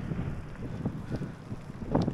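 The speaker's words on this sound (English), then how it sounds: "It's still very windy" Steady wind rush buffets the microphone on a motorcycle ride along New York gravel roads, a low, uneven roar with gusty swells and no voices, like air streaming past a rider at speed.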